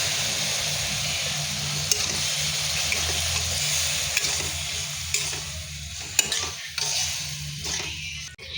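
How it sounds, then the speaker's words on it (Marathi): Cooked horse gram sautéed in oil in a pan, giving a steady close sizzle with occasional scraping and clinking as the spoon stirs, and no speech. "त्याच्यामध्ये शिजलेले हुलगे घालायचे"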